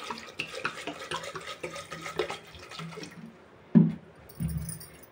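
Water poured into a pot of chickpeas with potatoes and salt for boiling in a home kitchen, a splashing pour followed by clinks and brief bursts of running water.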